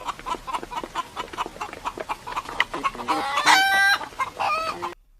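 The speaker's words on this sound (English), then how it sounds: "H for hen." A hen clucks in a quick run of short, scratchy calls, then breaks into a louder, drawn-out cackle near the end, all close and clear.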